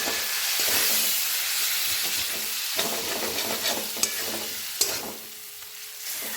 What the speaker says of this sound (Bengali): আঁচ কমিয়ে আমি মশলাটাকে এখন কষিয়ে নেব।